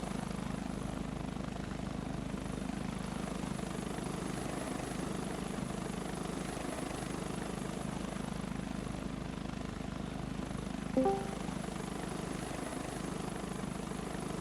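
Steady aircraft engine roar from a plane in the Roblox flight simulator Pilot Training Flight Simulator, taking off from a runway. The drone stays constant and fairly loud throughout, with no voices over it.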